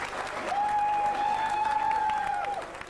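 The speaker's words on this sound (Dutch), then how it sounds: "geef eens een applaus." Applause from an audience at a 1997 village quiz night in Prinsenbeek, a broad wash of clapping held under a sustained whistling tone that rises and fades across the middle.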